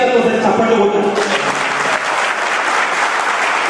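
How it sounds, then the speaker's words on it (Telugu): Loud, dense applause from an audience at a rally for SC categorisation, honouring Manda Krishna, fills the space continuously without letting up, with crowd noise mixed in throughout. "మండలకృష్ణకు గట్టిగా కోసం చప్పట్లు కొట్టారు"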